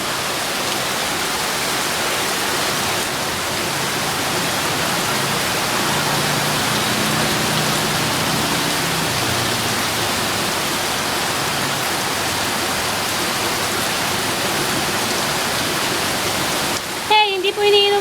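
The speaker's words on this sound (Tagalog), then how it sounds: "At baha na talaga dito." Heavy rain with rushing floodwater in a flooded Philippine street, where water stands knee-deep and is rising. A steady, loud broadband wash runs the whole time, with a brief louder disturbance near the end.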